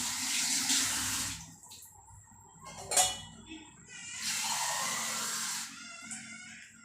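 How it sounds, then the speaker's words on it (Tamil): Water poured from a metal pot into a frying pan heating on a stove, a rushing hiss lasting a few seconds, a sharp clank, then a second longer pour, close and fairly loud. "இதுக்கு ஒரு சொம்பு தண்ணி ஊற்றுறேன்."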